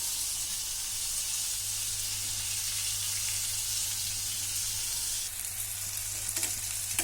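Okra shallow frying in a pan for Sindhi-style bhindi masala gives a steady, dense sizzle with a constant low hum beneath, and a slight shift in the hiss near the end.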